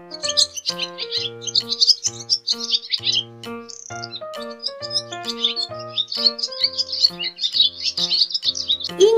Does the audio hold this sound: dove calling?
yes